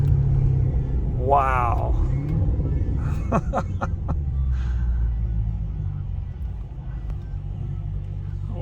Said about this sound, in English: Who needs a radio when you get this sound? Did you hear that downshift?